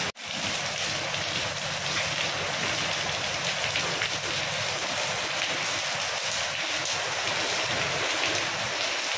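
Heavy rain pours in a dense, unbroken hiss, loud and close, with a low rumble underneath and no voices for its whole length.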